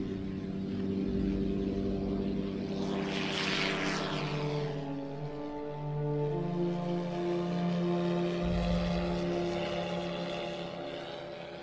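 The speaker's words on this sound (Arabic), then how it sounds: "وبقيت الطائرات تجوب سماء بغداد حتى ساعة الصفر." A propeller-driven reconnaissance aircraft drones steadily overhead above Baghdad, a continuous low engine hum with a passing whoosh midway, no voices.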